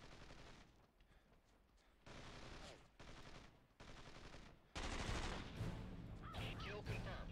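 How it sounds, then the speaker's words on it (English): Bursts of rapid gunfire crackle in Tom Clancy's Ghost Recon on PS2, with sharp repeated shots growing louder and denser toward the end. "Hear gunshots."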